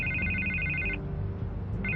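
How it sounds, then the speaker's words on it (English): A telephone rings in the video game Batman: The Telltale Series, two electronic trilling bursts separated by a pause, over a low ambient hum. "I can't get the phone to stop ringing."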